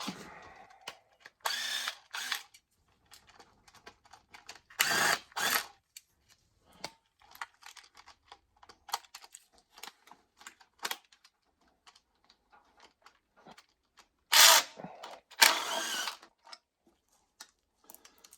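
Bolts are worked loose from the thermostat housing of a Porsche Boxster 2.5L engine: scattered ratchet clicks and metallic clatter in short bursts, close and fairly quiet, with long pauses between.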